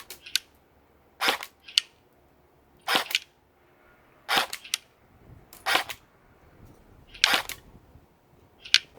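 A CYMA CM518 M4-style airsoft replica fires in automatic mode, giving six short, sharp bursts of rapid shots spaced roughly a second apart, close and loud against a quiet background with no talking.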